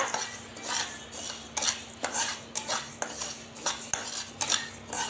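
Red rice is dry-roasted and stirred in a pan for a village-style nine-grain laddu, with repeated metal scraping and clinking strokes up close and a light rattle of grains, no voices.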